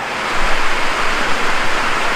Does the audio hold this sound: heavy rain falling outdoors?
yes